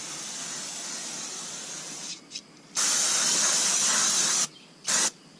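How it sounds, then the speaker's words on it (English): Brake cleaner is sprayed onto rear brake parts in bursts: a long steady aerosol hiss, a brief pause, a louder sustained blast, then a short final squirt, all close up. "let me spray these down just to clean them a little bit"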